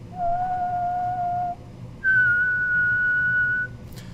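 Two sustained whistled notes in a row, the first lower and the second higher, each held for over a second with a short pause between.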